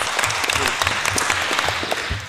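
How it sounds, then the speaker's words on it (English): Warm applause from a conference audience at a financial inclusion and mobile money forum, a full room of clapping that stays steady, with faint talk underneath. "Warm round of applause"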